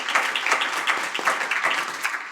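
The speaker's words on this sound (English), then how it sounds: "let's give our panelists a round of applause" Short burst of clapping from the audience at a county workforce summit for a panel, individual claps audible in a loose, uneven rhythm, fairly close and moderately loud.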